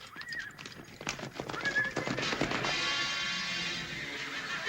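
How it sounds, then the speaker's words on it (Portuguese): A herd of horses in a western video game, with clip-clopping hooves and several whinnies and neighs, followed by a sustained rumble of many hooves moving together at moderate distance. "Ele trouxe uma grande manada de cavalos lindos."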